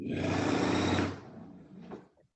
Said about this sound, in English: Now, when I hit the start stop button, I should be able to sew.